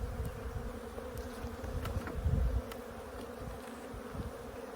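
Bees buzzing around an opened hive early in the year: a continuous, moderately faint swarm drone up close, rising briefly in intensity midway, with no talk.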